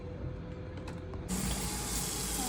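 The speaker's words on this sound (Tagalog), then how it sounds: "Hugasan muna natin yung sitaw guys ha, para malinis ang ating pagluto ng sitaw." Running tap water gushing into a sink as string beans are rinsed, starting abruptly partway through and holding a steady, close hiss after a quieter stretch of faint kitchen clatter.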